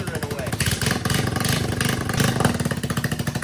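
A running engine with an exhaust leak at a broken manifold bolt, giving a loud, rapid rhythmic ticking and puffing close up over the steady engine note, like a tractor.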